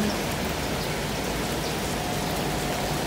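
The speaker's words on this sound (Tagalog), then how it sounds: "Umuulan pa rin guys." Heavy rain pours steadily during a Hong Kong black rainstorm on Lai Chi Kok Road, a dense, continuous outdoor hiss with no pauses and no voices.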